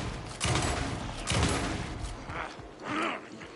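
A shotgun firing in the horror game Alan Wake II: two heavy, booming blasts close together near the start, followed by fainter thuds and groaning sounds amid steady game noise.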